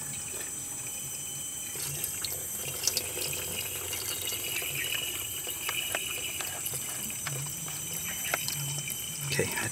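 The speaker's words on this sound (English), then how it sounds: "you should also fill up the water" Water runs steadily into a hydrogen generator's reservoir, a continuous close splashing trickle with small clinks, lasting several seconds.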